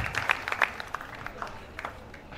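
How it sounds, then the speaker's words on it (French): Light applause from a small audience at a French gathering, a few scattered claps standing out over a soft, thin patter that fades quickly. "On va applaudir encore pour tout le monde."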